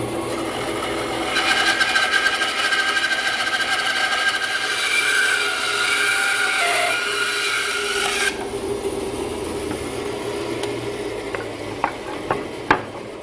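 Bandsaw resawing a board of wood stock guided against a round steel dowel, a steady whining cut with a bright rasping edge that stops abruptly, leaving motor hum and a few sharp knocks.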